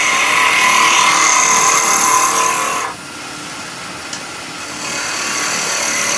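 Skew chisel cutting tenons on a wood lathe, a loud steady high-pitched cutting whine that drops away partway through, then resumes more quietly after a short lull with a small tap.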